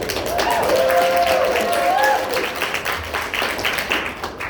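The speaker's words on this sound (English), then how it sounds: "those applause were for nothing" A stand-up comedy audience in Rockford breaks into applause, a steady wash of many hands clapping with a whoop near the start, fading slightly toward the end.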